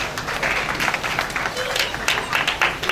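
Congregation applauding in a church service, a dense, steady wash of many hands clapping at close range with voices mixed in throughout.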